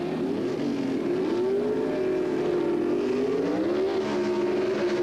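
A 1974 Camaro and a Monza drag racing at the 1977 NHRA Gatornationals launch with a loud, continuous engine roar whose pitch climbs and wavers as the cars accelerate down the strip.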